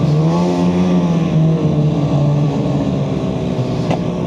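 A Free Ride 800 snowmobile engine drones on a winter trail ride, a loud steady close hum with a sustained tone that dips slightly and continues without voices.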